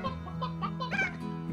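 A Roostro, a rooster creature in the video game Slime Rancher, makes a short run of harmonic clucks and squawks, loud and close, over a steady low hum of game sound.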